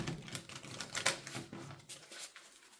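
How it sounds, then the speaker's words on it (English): A naturally curved floriography tarot card deck is shuffled by hand, giving a quick run of crisp papery clicks and flutters that rise into one sharper snap, close up with no talking. "This is a weird deck to shuffle."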